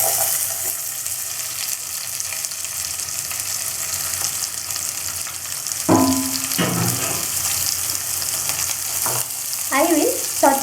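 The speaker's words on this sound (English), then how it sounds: "I will saute the onion." Chopped onion sautes in a pan with whole garam masala for a spicy restaurant-style chicken dish, giving a continuous close sizzle and frying hiss, with a few louder bursts as it is stirred.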